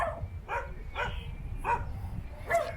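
Small puppies bark repeatedly near a derelict structure at Seamoon in Grenada, five or six sharp yips and barks spaced about half a second apart, fairly close and loud.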